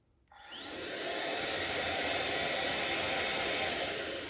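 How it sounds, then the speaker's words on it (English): A Toyota Tundra secondary air injection pump from a 2007-2013 truck runs on a bench test, spinning up quickly from silence into a loud steady whirring blower drone with a high whine, close and continuous. "So red to red, black to black, and then see if it blows air out."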